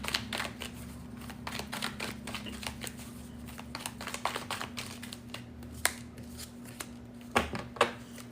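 Tarot cards shuffled and drawn up close, a steady run of dry riffling and slapping card sounds with sharper snaps toward the end, over a faint constant hum.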